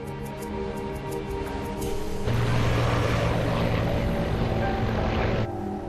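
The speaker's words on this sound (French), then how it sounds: "Un petit avion régional entame son approche finale." Small regional propeller airliner of Colgan Air on final approach near Buffalo, New York: a continuous droning engine hum with steady tonal whine, swelling louder midway and then dropping off, with no talk.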